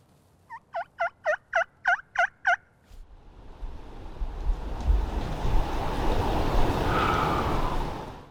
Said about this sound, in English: He gobbled after I called.